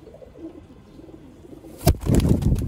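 Sialkoti pigeons of the rooftop and Sheikh-wale breeds, young birds kept for sale, coo softly and low at close range, then a sudden loud burst of wing flapping and scuffling takes over.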